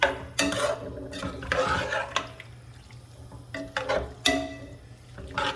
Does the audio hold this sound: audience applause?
no